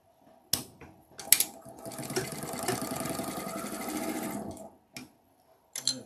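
A sewing machine stitching seams, running in one steady burst of rapid mechanical whirring and clatter for a few seconds, close, with brief handling clicks before and after.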